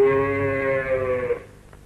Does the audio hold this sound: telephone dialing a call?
no